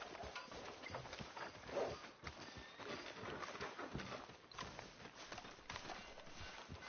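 A horse's hooves clip-clop at a walking pace in Red Dead Redemption 2, a steady rhythmic clatter of footfalls on a street heard up close with no talking.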